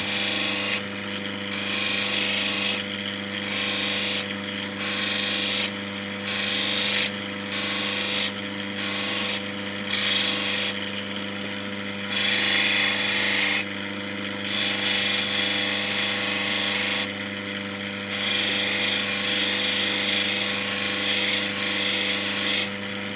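A grinding wheel cuts and shapes a natural Ethiopian opal. It gives a steady loud whirr with a hum beneath, and bursts of rasping grind come and go in regular pulses as the stone is pressed to the wheel.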